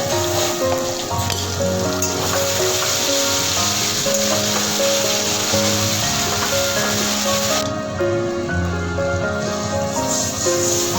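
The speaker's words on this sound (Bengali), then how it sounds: "এবার ভালো করে মশলাটা কষিয়ে নেব।" Spice paste frying and sizzling steadily in a pan, with a continuous hiss that runs the whole time beneath fairly loud background music.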